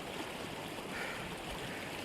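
Fast-flowing stream water runs near a new truck stuck in the water. It makes a continuous broadband rushing hiss, steady and fairly close, with no voices over it.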